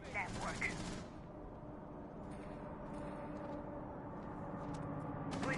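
Rapid bursts of gunfire from a competitive shooter match, a dense run of shots at the start, then a sustained busy battle roar with scattered bursts. A voice talks over it throughout.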